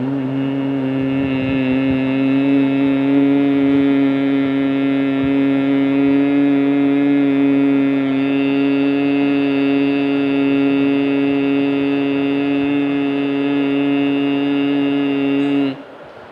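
A steady, loud voiced hum imitating a honey bee, made during yoga breathing practice with the ears closed, holds one continuous tone for about fifteen seconds before stopping abruptly.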